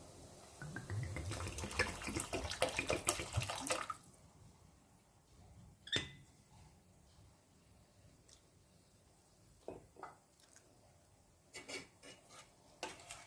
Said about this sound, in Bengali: আর একটু জল দিয়ে দিই